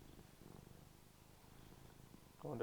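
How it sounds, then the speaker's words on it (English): A cat purring right up against a lavalier microphone, a soft low continuous rumble that runs steadily under the whole stretch, ending in a brief louder rustle. "I wonder if your purring is coming across."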